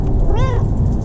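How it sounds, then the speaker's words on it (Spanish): A single high, thin kitten meow rises and falls, close and clear over low background rumble. "Miren ese gatito."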